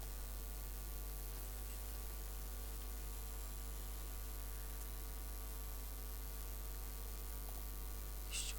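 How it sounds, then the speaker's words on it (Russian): A computer's cooling fan spins harder under processor load, giving a steady, quiet whir and hum with a faint electrical buzz that holds level throughout, with no talking. "Когда работает процессор, еще слышен звук вентилятора громче."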